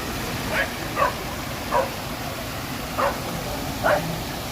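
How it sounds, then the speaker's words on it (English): Dog in a downtown Toronto fountain pool giving five short, evenly spaced yips or barks, moderately distant, over constant splashing water noise. "Hey, there's a real dog in the pool,"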